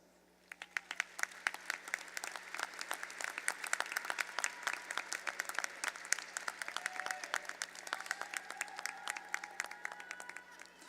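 Graduates at a university fall commencement ceremony applauding their supporters in a large hall, many crisp claps building quickly into sustained, dense applause that holds steady for several seconds, with a few faint voices underneath.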